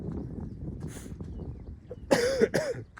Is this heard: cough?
yes